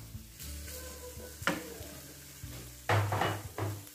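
White button mushrooms sizzle in a frying pan with a little oil, a steady crackling frying hiss broken by a couple of louder stirring bursts, close and fairly quiet, with no talking.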